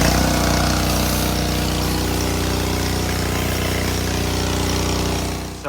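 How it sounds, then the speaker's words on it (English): A Ryobi pressure washer drives a 15-inch surface cleaner, a loud, close, steady engine and pump drone with a constant hiss that runs unbroken before briefly dropping at the end, with no talk. "the 15-inch Ryobi surface cleaner really works"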